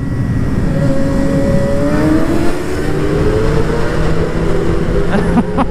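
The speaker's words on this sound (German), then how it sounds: "jetzt schauen wir mal, was sein Auspuff so bringt" Suzuki GSX-R 750 motorcycle exhaust droning and revving steadily at close range, a continuous loud engine note with rising pitch sweeps, alone without talk.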